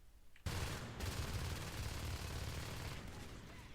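Shotgun fire in the online shooter Natural Selection 2, a sudden loud blast followed by a dense, sustained barrage of overlapping gunfire that continues for several seconds without speech.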